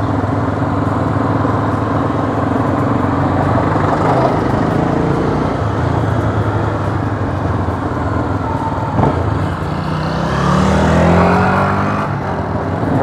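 A motorcycle with a newly changed drive ratio rides along, its engine droning loud and close with a steady pitch. It swells as the revs climb near the end. No voices are heard.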